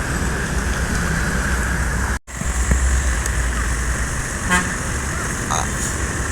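An ALS intercity bus heading toward Palembang passes on a busy road at night, with a short horn toot rising briefly above a loud, continuous traffic roar. There is a momentary dropout partway through.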